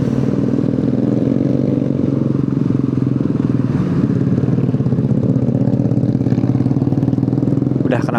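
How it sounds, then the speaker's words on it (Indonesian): A loud, deep motorcycle engine with an aftermarket exhaust drones steadily throughout, with a gritty rumbling exhaust and a voice talking over it, near the Ciganea toll gate on the Bandung–Jakarta road. "Udah knalpot brong lagi aja."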